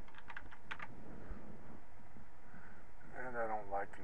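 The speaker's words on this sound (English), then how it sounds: "Type my name," Steady clatter of typing on a computer keyboard, close and moderately loud, with a voice starting to speak near the end.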